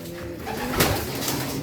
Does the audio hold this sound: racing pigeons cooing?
yes